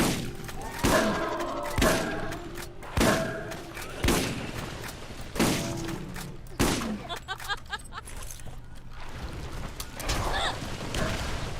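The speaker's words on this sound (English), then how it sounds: "What a perfect grenade." Several heavy thumps and blasts from a grenade in a Minecraft-style video game, spaced roughly a second apart, followed by crackling debris and a faint voice in the background.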